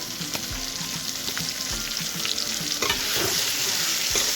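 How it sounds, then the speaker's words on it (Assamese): Chopped tomatoes go into a pan of chicken curry and sizzle loudly while being stirred, with steady frying hiss and intermittent scraping strokes throughout. "আমি চপ কৰি লোৱা বিলাহীখিনি মাংসত দি দিম"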